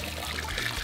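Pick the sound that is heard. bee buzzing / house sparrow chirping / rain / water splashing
water splashing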